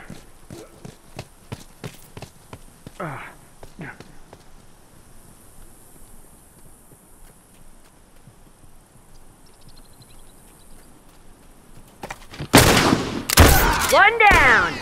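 Gunfire in The Last of Us Remastered Survivor mode, a string of sharp shots early on, then a loud burst of rapid fire near the end, with brief talk partway through.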